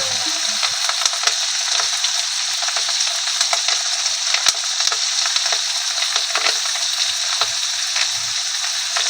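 Eggs frying in a pan, a continuous loud sizzle peppered with sharp spluttering pops and crackles spread irregularly across the whole stretch, with no talking.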